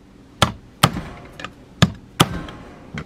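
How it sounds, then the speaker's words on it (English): Fencing staples being hammered into a Victor rat trap: five sharp, separate hammer blows land at an uneven pace, close and loud, with no talking. "we're going to just hammer these"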